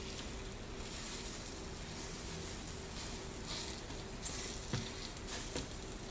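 An oatmeal salmon patty sizzles quietly on a Dash mini griddle, a soft continuous hiss and crackle with a couple of faint pops and no speech.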